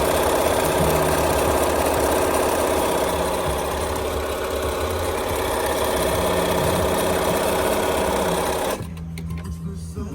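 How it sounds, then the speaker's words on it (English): A Bernina 1230 sewing machine runs and stitches with a loud, steady, close-up mechanical whir that continues for most of the stretch, then cuts off abruptly near the end, leaving only a faint background. "So now you can see the machine is perfectly working fine."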